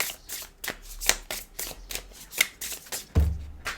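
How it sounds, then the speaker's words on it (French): Tarot cards are shuffled and handled in quick, papery riffles and flicks, close and distinct, with a soft thud near the end as cards fall onto a surface. "j'ai fait tomber énormément de cartes"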